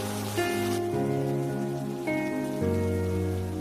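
Heavy rain pours steadily throughout, a dense hiss of falling water mixed under sustained background music in a Hindi animated story.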